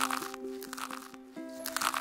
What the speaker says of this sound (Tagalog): Kumain siya ng chicharon